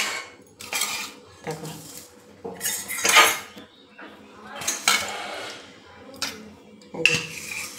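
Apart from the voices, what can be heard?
serving curry into a bowl, dishes clinking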